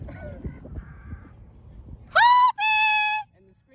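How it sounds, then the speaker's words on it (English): Two loud, harsh crow caws in quick succession, standing out clearly above a faint, rustling outdoor background. "you hear that other sound that was over there? That's crows."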